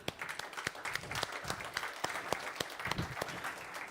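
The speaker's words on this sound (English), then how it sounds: "Can we please give them a round of applause" A conference audience at a European health and human rights event applauds, with distinct sharp claps blending into steady, moderately distant clapping for four seconds.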